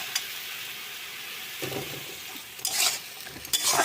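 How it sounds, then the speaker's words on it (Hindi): Food fries in a kadai with a constant hiss of sizzling oil, broken by a few short bursts of stirring and utensil scraping against the pan; no voices. "और इसे अच्छी तरह से हम फ्राई कर लेते हैं।"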